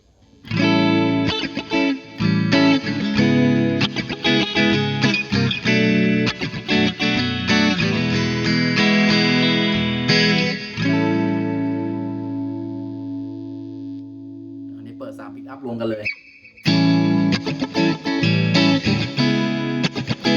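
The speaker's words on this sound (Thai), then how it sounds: "มาฟังเสียงผสมดูบ้างนะครับ เสียงผสมระหว่างตัว neck ตัวบิด" Squier Olarn Signature Strat Series II electric guitar on a mixed neck pickup setting, played through a chorus-like effect. Loud strummed chords ring out, one long chord decays almost to silence, then the strumming resumes.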